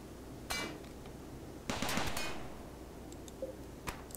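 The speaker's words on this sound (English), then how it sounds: "He's just gonna run up and get killed by the turret." A turret fires in RimWorld, with short clattering bursts of gunfire separated by quiet gaps, a longer rattling volley in the middle and a single crack near the end, all fairly soft.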